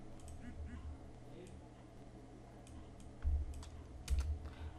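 Text is typed on a computer keyboard in Photoshop: scattered light key clicks sound under someone speaking, with a couple of heavier thumps near the end.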